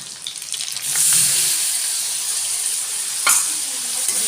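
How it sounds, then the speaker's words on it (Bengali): Ground spices fry in hot oil in a pan with a loud, close, continuous sizzle that swells early and stays steady, broken once by a brief scrape. Nobody talks. "এই যে ভাজা ভাজা মশলাটা হয়ে গেছে"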